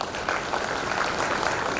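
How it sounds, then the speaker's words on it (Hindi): Audience clapping at a stress-relief spiritual program in Srinagar Garhwal, Uttarakhand: steady, dense applause from a seated crowd that fills the whole short stretch at even loudness. "तो अपने भाग्य के लिए आप तालियां बजाइए"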